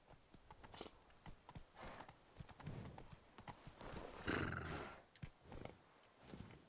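In the video game The Witcher 3, a horse trots with steady clip-clopping hooves and gives a brief whinny partway through. The sound is close and moderately loud, with faint background ambience.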